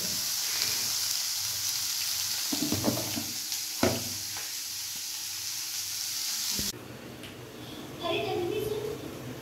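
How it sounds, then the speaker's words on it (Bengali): Mutton curry and kalla meat cook in two woks, some under lids, giving a steady, fairly faint sizzle with a few light clinks and soft voices in the background. Partway through, the hiss drops abruptly to a quieter level. "দুটোই কড়াইয়ে রান্না হচ্ছে, একটাতে মটন কারি আর একটাতে হচ্ছে কাল্লা ভাজা"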